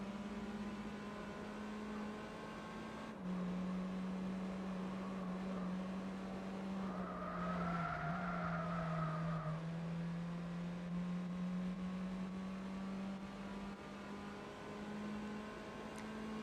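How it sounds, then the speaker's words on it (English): Toyota Yaris racing engine in Gran Turismo 4, a steady droning hum held near one pitch with a brief rise and dip midway, fairly faint and continuous with no talk. "the Yaris is being driven on the ragged fucking edge"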